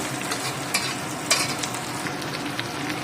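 Two kilos of meat frying in a hot pan with onion and garlic, a soft continuous sizzle broken by a few sharper crackles and stirring scrapes, close and quiet.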